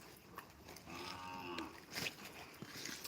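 A pregnant Kankrej cow in Kutch lets out a single drawn-out moo, fairly faint and set against a quiet farm background, with a few small knocks around it.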